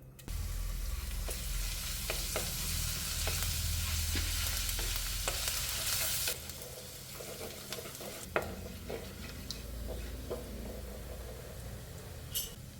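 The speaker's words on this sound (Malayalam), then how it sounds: "പിന്നെ എനിക്ക് കുറച്ച് വെളുത്തുള്ളി ഇഞ്ചിയും വേണം അതിടാം" Garlic and ginger sizzle and fry in coconut oil in a pot, a steady loud crackling hiss for about six seconds that then drops to a lighter sizzle broken by stirring clinks.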